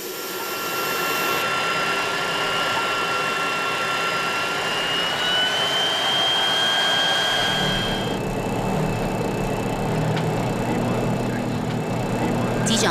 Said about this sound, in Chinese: 湾流3型私人飞机因为低燃料、低排气量，成为飞往南极的交通工具